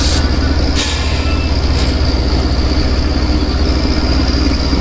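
A modded truck in a trucking video game idles steadily, a loud, close, continuous low engine rumble with an even throb and no talking.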